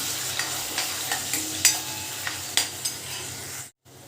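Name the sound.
frying ginger, garlic, coriander and garam masala in oil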